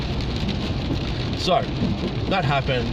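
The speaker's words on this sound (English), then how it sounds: "You can probably tell it's raining at the moment by the rain on the window there." Steady rain patters against a window in constant close wash, with a brief person's voice over it.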